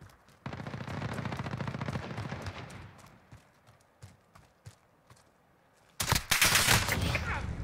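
Gunfire in Call of Duty Modern Warfare during a night gun game, a sustained burst of rapid shots, then scattered single semi-auto cracks, then another loud dense volley.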